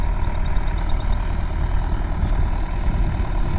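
A tractor engine runs steadily in a paddy field, a continuous low rumbling drone with faint higher sounds briefly over it early on.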